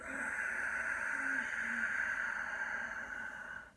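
A long, steady breathy yoga ujjayi exhale through a constricted throat, a hissing, throaty rasp, close and sustained for a few seconds before trailing off.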